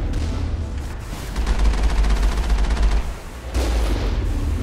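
Turret gunfire in the video game Mass Effect, a sustained burst of rapid automatic shots that pauses briefly and then resumes, loud and close with no talking.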